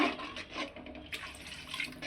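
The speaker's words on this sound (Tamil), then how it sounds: "தேவையான அளவு கொஞ்சம் தண்ணி ஊற்றிங்க" Water pours and splashes softly into a pan for a couple of seconds, a quiet, steady trickle with no voices.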